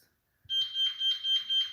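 A smoke detector's shrill electronic alarm sounds in repeated pulsing beeps, loud and close, after a moment of silence.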